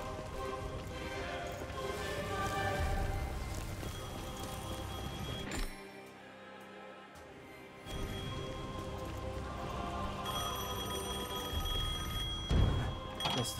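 An old telephone rings in the video game Devil May Cry 5, repeated bell tones over rain-like ambience, pausing briefly midway before ringing resumes; no one speaks.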